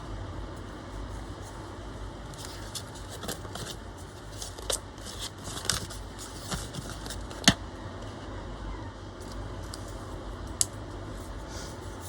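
Scissors cut collage paper for a journal cover, steady soft snipping and papery rustling close up, with a few sharper clicks scattered through and no talking.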